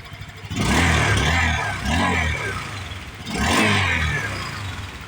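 Honda Click 125 scooter fitted with a stock exhaust, its engine revved twice to a loud, close, rising roar, with a settled idle in between.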